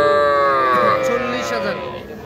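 Calves lowing at a busy cattle market, a drawn-out bovine moo with rising harmonics sounding close and loud, bleeding into market chatter and a faint voice in the background.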